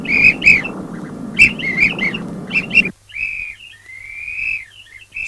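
Bursts of high, warbling whistle tones repeat over a rumbling background, then give way to longer, cleaner whistle notes alone.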